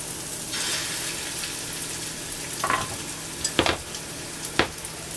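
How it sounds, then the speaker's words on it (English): Steady close sizzling of meatballs frying in hot oil in a pan, with a few sharper pops and spatters breaking through the continuous hiss. "And that sizzle is also a good sound."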